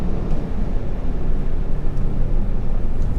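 A tuned Volkswagen MK7 GTI with a Stage 1 tune pulls hard in second gear up an on-ramp, a steady, loud, broadband engine and road roar that holds for the whole stretch with no talk.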